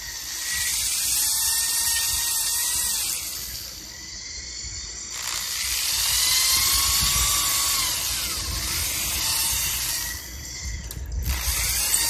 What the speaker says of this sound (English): Okay, drilling our holes.